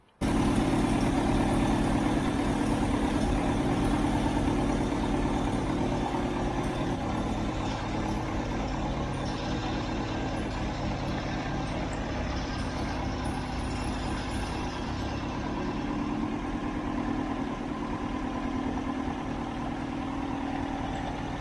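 An engine running on gasoline idles steadily at moderate volume, a continuous low rumble with no change in pace throughout.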